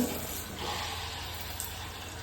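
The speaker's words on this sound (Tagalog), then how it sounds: "Tingnan natin kung malakas yung shower" Water runs in a steady, hissing spray from a shower, constant and moderately loud throughout, with no voices.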